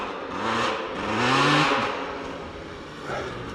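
A dirt bike ridden through soft, loose snow, its engine revving up and down in rising and falling surges, close and fairly loud, with no talking.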